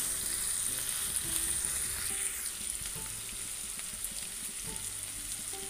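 Prawn chilli gravy cooks in a pan with a steady, close sizzle and frying hiss, with a few light stirring scrapes and no talk.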